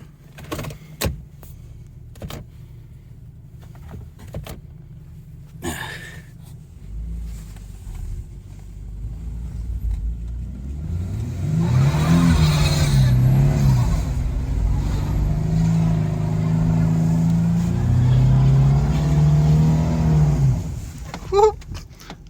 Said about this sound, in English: Let's go ahead and rip a burnout